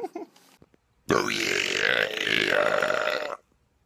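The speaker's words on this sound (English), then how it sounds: "Done on the burps." A person lets out one long, loud belch lasting several seconds, close and guttural, sliding in pitch partway through, preceded by a brief bit of talking.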